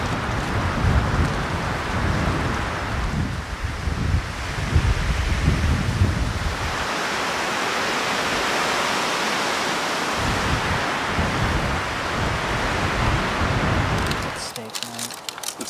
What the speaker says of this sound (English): Give you an indication of what we were paddling in today with the wind.